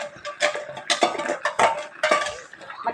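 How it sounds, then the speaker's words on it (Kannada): A pressure cooker lid with its whistle being closed in a home kitchen, heard as close, irregular metallic clinks, knocks and clatter of cookware with no talking. "ಇದಕ್ಕೆ ಹಾಕಿ ಕುಕ್ಕರ್ ಸೀಟಿ ಮುಚ್ಚುತ್ತಾ ಇದ್ದೆ."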